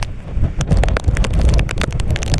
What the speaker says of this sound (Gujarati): પવનનો વરસાદનો બહુ વધારો થઈ ગયો છે